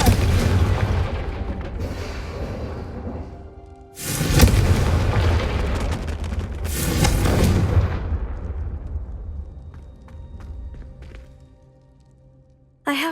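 The Confringo fire spell in Hogwarts Legacy bursts in a series of heavy booming blasts, each with a rolling rumble that fades into a quieter tail before the next one hits.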